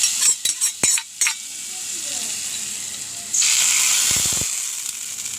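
Hot tempering of onion, curry leaves and chili powder poured into a fish curry, starting with a few clinks of a pan, then a soft steady fry and a loud sudden sizzle that slowly fades.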